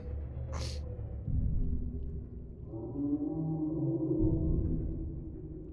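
A deep, moaning creature call from the video game Subnautica, with drawn-out tonal wails over a low rumble, joined by a brief breathy hiss early on, eerie and sustained.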